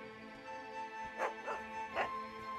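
A dog in an animated adventure gives a few short yips and whimpers, three quick bursts over a steady tonal musical background, fairly soft.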